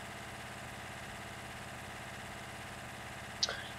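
A tractor engine idles in a farming game: a steady, low mechanical hum with an even throb, broken only by a brief click near the end.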